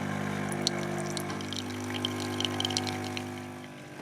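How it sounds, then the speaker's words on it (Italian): A pump runs with a steady low mechanical drone while water drains off, faint splashing and trickling over the top, close and continuous with no talking. "Ecco uno stratagemma per scaricare l'acqua."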